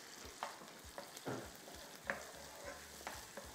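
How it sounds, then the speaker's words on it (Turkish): Tomatoes drop into a hot frying pan while cooking bulgur pilaf, a faint, steady sizzle with soft scattered stirring scrapes and taps, close and quiet without any talk. "Şimdi domates koyuyorum."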